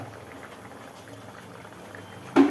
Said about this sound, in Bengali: একটু ফুটে উঠুক ফুটলে পটলগুলো ছাড়বো